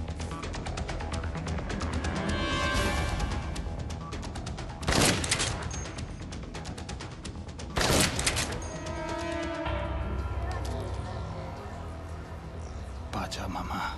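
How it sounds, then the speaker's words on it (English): Gunfire from the floor above in the video game Dead Rising, sustained bursts of shots and booms over a dense, loud game soundtrack. "Someone shooting from the floor above."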